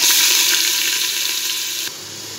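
Onion, garlic and ginger fry with meat for a taheri in a hot pan, making a loud, close, continuous sizzle that eases slightly toward the end.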